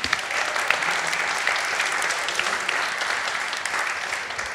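A seated conference audience claps steadily for several seconds, a dense crowd of hands at an even level with no speech on top.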